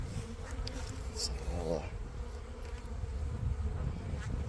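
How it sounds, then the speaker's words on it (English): Honey bees buzzing around an open hive during installation of a new package, a dense continuous drone with individual bees zipping close past; a person says a word, and wind rumbles underneath. "all these bees flying around will find their way in"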